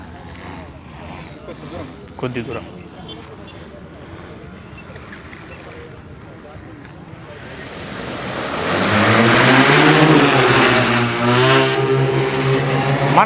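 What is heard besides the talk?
agricultural spraying drone switched on and flying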